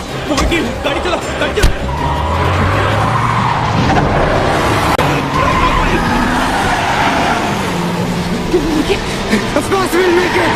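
A jeep pulls away with tires squealing and skidding, engine roaring close and loud throughout, with voices and action-scene clatter mixed in.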